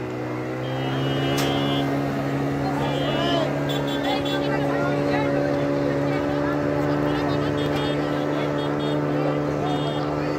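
A motorboat drones steadily on a river near a riverside resort beach, its engine a constant loud hum throughout, with people talking over it.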